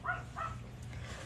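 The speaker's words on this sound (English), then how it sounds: "What is he barking at?" A dog indoors gives two short, moderately faint barks close together at the start, then falls quiet against a low background hum.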